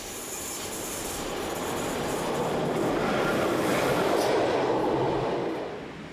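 An ÖBB (Austrian Federal Railways) electric locomotive hauls a train past with a broad rushing roar and rail noise that swells in the middle, then begins to fade near the end.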